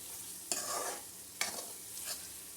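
Egg curry with garam masala and salt sizzles in a pan after water is poured in, with three crackling bursts of frying as the spoon stirs through the gravy, fairly faint and close, no voices.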